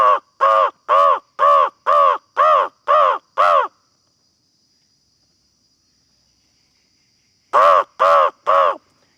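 A man imitates a crow's caw with his voice, giving eight evenly spaced harsh calls, then a pause of several seconds with faint insect-like hiss, then three more caws, loud and close.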